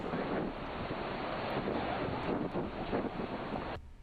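Ocean waves at the beach where sneaker waves occur, a continuous broad rush of surf mixed with heavy wind buffeting the microphone, loud and steady before dropping off at the end.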